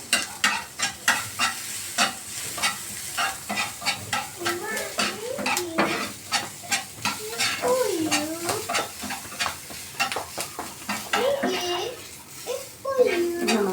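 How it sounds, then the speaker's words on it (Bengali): Eggplant fries in a pan with a constant sizzle, punctuated by a quick, regular scrape-and-tap of stirring close by, while people talk quietly in the background. "দেখুন কিভাবে আমি ভেজে দিচ্ছি"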